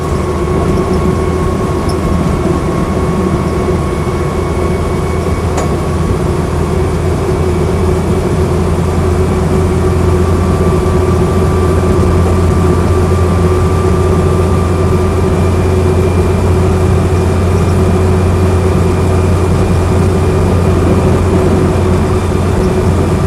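A Land Rover Lightweight engine runs steadily while driving, a loud, constant low drone with rumble and road noise that goes on without a break, and nobody talks.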